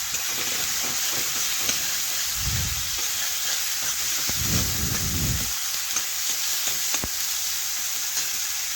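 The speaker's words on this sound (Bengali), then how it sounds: "এভাবে মশলার সাথে মিশিয়ে একটু কষে নিলাম" Spices sautéed with salt, Kashmiri chili powder and a splash of water on a home clay stove, giving a steady close sizzle with a couple of brief stirring bursts.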